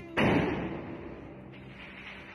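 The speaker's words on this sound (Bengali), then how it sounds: "চারপাশে বিকট শব্দে বাজির শব্দ শোনা যাচ্ছে" A single firecracker goes off at midnight, a dull, heavy boom that rings out and fades into a low rumble, with a faint second pop near the end.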